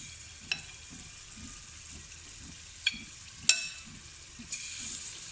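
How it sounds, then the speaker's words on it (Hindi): Battered potato pieces for aloo manchurian fry in hot oil over a low flame, giving a steady close sizzle broken by a few sharp crackling pops as more pieces drop in, with no talking. "सारे आलू इसमें डालती जाऊँगी ऑयल में"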